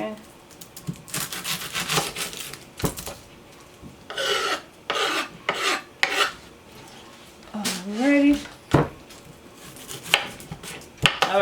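Knife slicing through an onion on a cutting board while shrimp and grits cook, a run of rasping, scraping cuts in short bursts with clinks of kitchen utensils and a voice talking at times.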